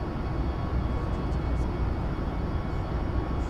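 Steady, loud cockpit rumble of a Boeing 737 MAX 8 flight deck in a flight simulator game, a broad, unchanging drone of engine and airflow noise with no talking.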